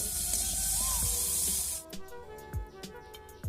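Chopped onion and tomato fry in oil with a strong hiss that cuts off partway through, followed by scattered scraping and stirring knocks in a quieter pan.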